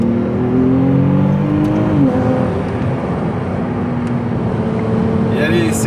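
Ferrari 296 GTS hybrid engine accelerating, heard from inside the car as a steady loud drone with rising whining tones, while people talk over it.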